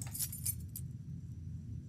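Metal keys jangling in the Indonesian folklore horror game Pamali, a short burst of bright clinking near the start over a steady low rumble of game ambience.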